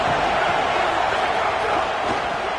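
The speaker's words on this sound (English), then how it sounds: "This crowd ready to make its presence known." Dense roar of a packed football stadium crowd, steady and loud throughout with no break, a broad cheering wash that fills the whole span.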